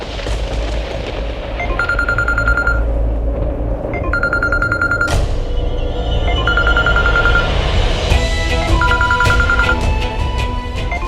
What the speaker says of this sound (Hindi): घंटी तो जा रही है, जया फोन नहीं उठा रही है।